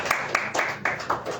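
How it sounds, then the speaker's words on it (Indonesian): A church congregation claps for about a second and a half, with rhythmic hand claps at a steady beat, moderately loud and close. "Beri tepuk tangan yang meriah buat Tuhan Yesus."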